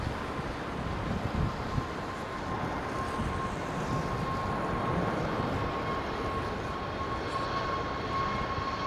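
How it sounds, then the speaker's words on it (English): An Airbus A380 lands at London Heathrow with heavy reverse thrust, a steady distant roar of jet engines heard faintly with wind noise. "the A380 going heavy on the reversers"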